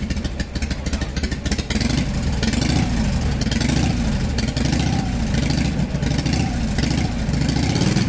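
A motorcycle engine revs and idles, a dense, loud mechanical roar with rising and falling throttle, heard close and alone.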